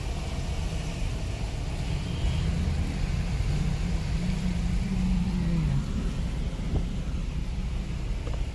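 Cars splashing slowly through a flooded street in St. Gabriel, Koronadal City, where a river overflowed during a flash flood; a steady engine rumble and water noise run throughout under wind on the microphone.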